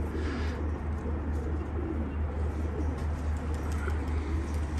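Low, soft cooing of pigeons repeats steadily over a constant rumbling background hum, fairly faint and close together.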